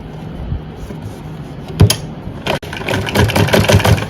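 A sewing machine stitches a suit with a steady whir. The motor runs louder and denser in the second half of the take, close to the listener, with no talking.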